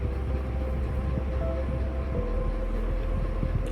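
A Swiss cogwheel railway train bound for Jungfrau, waiting at a station, gives off a steady low rumble and hum, with faint squeaks and clanks over the drone.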